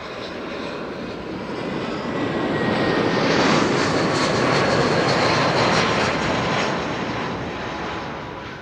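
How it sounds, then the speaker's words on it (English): A GE90 jet engine spools up at Amsterdam Schiphol Airport, a loud, broad roar that swells steadily and holds strong before easing slightly, with no voices over it. "I can hear that GE90 is already spooling up"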